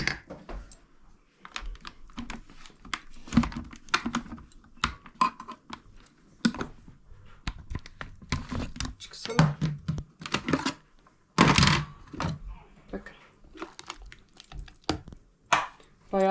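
Rapid, uneven chopping and thudding bursts from a food processor working through peppers, dense and close, with brief pauses between pulses.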